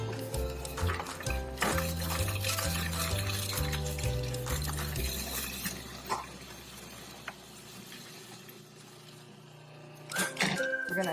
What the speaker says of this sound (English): with the machine on and running, we're going to drop in the garlic and the jalapeno through the feed tube